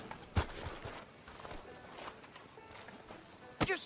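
Hooves of a horse walking in Red Dead Redemption 2, arriving outside a sheriff's office, clop in an uneven rhythm at moderate distance, with a sharper thud at the start and near the end.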